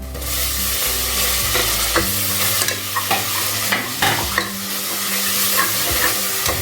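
Onions and ginger garlic paste sautéing over high heat in a pan for chana biryani, loud steady sizzling with repeated scraping and stirring strokes.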